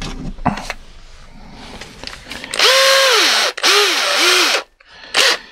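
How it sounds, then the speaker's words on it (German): A cordless drill with a 2 mm metal bit bores out a weld on a lithium battery pack, whining up and dipping in pitch through several loud bursts separated by brief pauses, with quieter handling clicks beforehand. "dafür nehmen wir hier halt mal so ein 2 mm Metallbohrer und dann auch ein Akkuschrauber"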